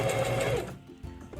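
A sewing machine stitching a heat pillow runs in a fast, even whir for about half a second, then stops, followed by quieter handling sounds of fabric being moved.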